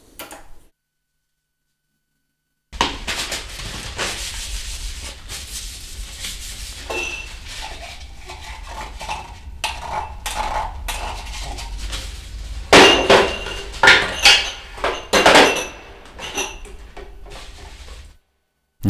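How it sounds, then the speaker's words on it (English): Kitchen sounds played back from a vinyl record, such as a fork on a table: irregular metallic clinks, clatters and knocks over a steady crackling surface noise, starting after a silent gap and growing busier toward the end. "Every sound you hear are sounds from the kitchen, like for example a fork on the table"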